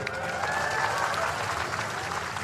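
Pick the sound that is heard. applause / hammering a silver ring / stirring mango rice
applause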